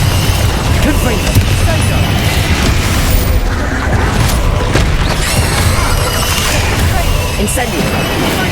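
Dense, loud combat in Hogwarts Legacy with the Confringo fire blast spell. Booming explosive bursts and crackling impacts pile up without pause, mixed with a voice speaking over the chaos.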